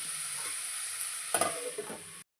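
Food sizzling steadily in a pan on a low flame while being stirred, with a few louder scraping stirs toward the end before the sound cuts off.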